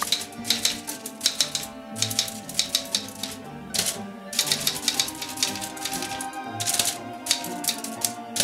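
Rapid tapping of keys as a text message is typed, an irregular run of close, crisp clicks with short pauses in between.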